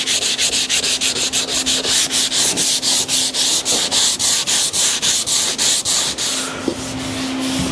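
Hand sanding along the grain of a wooden chair being refinished, a steady back-and-forth rasp in quick regular strokes, close and alone, slowing near the end.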